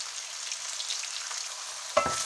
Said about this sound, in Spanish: Venga, echamos los champiñones. Y le damos aquí un salteado rápido